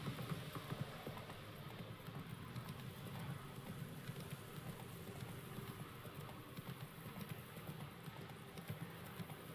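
Roach the horse galloping in The Witcher 3, a steady clip-clop of hooves running continuously along a road under ambient game sound, moderately loud throughout.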